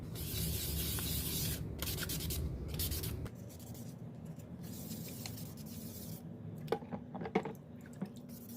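Hand sanding of a small wooden souvenir, a steady close scratchy rubbing that softens after a few seconds, followed by quieter light strokes and a few sharper scrapes near the end, with no voices.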